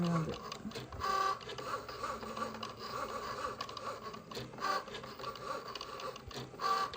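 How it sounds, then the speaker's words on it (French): A Cricut Joy cutting machine works through home-made labels, its small motor whirring and buzzing in quick repeated passes with clicking carriage movements, close and steady throughout. "je fais tout avec la Cricut Joy et ça va hyper vite"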